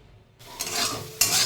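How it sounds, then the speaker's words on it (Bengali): Potatoes fry in a pan. After a moment of quiet, a sudden loud sizzle erupts, then surges louder again a second later. "ছেলে মেয়ের জন্য আলু ভাজা বসিয়ে দিয়েছি"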